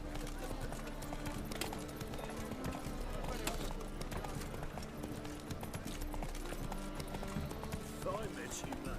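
Roach, the horse in The Witcher 3, trotting with a steady rhythmic clip-clop of hooves, kept at a moderate distance, while faint voices and game ambience sit underneath.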